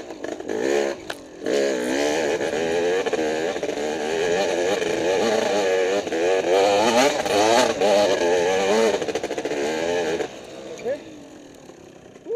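A dirt bike engine revs and bogs as the rider climbs through snow over stumps, loud and close, with pitch rising and falling through gear changes and a brief drop near the end, while a voice speaks over it.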